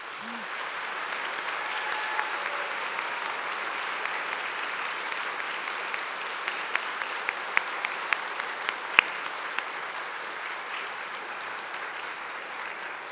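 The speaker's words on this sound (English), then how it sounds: "Graduates, give them a round of applause as well." Graduates in a hall at a Glasgow degree ceremony give a round of applause for their families and friends: a soft, steady wash of many hands clapping, fairly distant, running throughout with a few sharper claps standing out.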